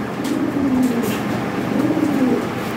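Lahori Sirazi pigeons coo at close range, two soft rolling, throaty calls over a steady low background hum, with no talk.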